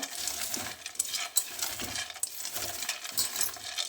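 Roasted peanuts rubbed together by hand to loosen their skins give a close, continuous dry rustle with small clicking rattles of the nuts knocking against each other.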